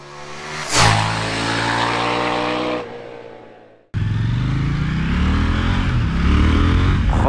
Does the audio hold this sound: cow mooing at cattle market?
no